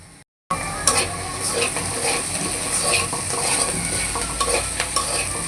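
Potatoes and pui shak seeds with a whole ripe naga chili sizzle steadily in a pan while a spatula scrapes and stirs in rough, repeated strokes, loud and close with no talk.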